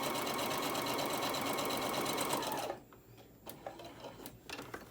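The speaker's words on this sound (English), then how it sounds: "I'm going to use the down feature on my sewing machine, and voila, let's just go." A sewing machine runs steadily at speed stitching cotton fabric, a dense continuous mechanical whir that stops abruptly partway through, leaving a few quiet clicks and handling taps.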